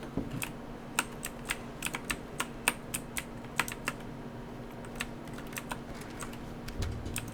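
Computer keyboard keys pressed while playing The Stanley Parable, a run of crisp clicks in an uneven rhythm, close and clear over a quiet background hum.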